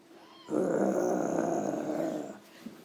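A deep, rumbling animal growl, like a large dog, starts abruptly and holds steadily loud for about two seconds before fading, heard alone with no talking.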